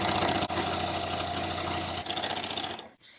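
A sewing machine quilts a small fabric key fob, stitching in a fast, even, continuous run up close, pausing briefly once before slowing and stopping near the end.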